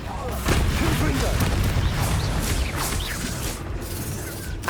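A Confringo blasting spell cast in the video game Hogwarts Legacy, loud booming explosions and crashing impacts in rapid succession against constant combat noise, with a voice shouting over the battle.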